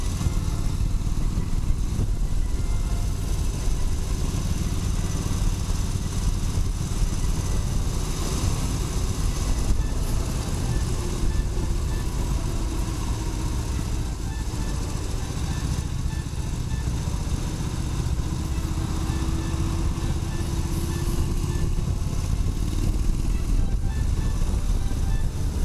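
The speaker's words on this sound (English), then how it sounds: "I can hear the sound of my exhaust, which is stopped by the way, but I think it still has" A 2017 Harley-Davidson Street Bob with stock exhaust on the move, giving a continuous low engine rumble mixed with wind noise that holds steady throughout the ride.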